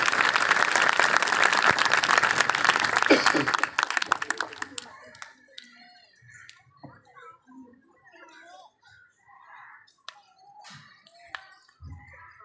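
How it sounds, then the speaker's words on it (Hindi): A congregation at a Christmas sermon breaks into loud applause that fades after about four seconds, followed by scattered quieter sounds and a voice speaking. "जोरदार तालियां खुदा ने यसुल मसीह के लिए।"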